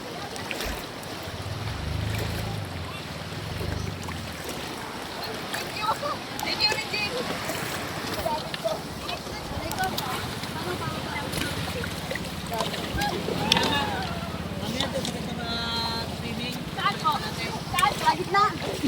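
A bangka outrigger boat out on open water during island hopping off Lian, Batangas, its steady engine drone and wash running throughout beneath wind, with people talking over it.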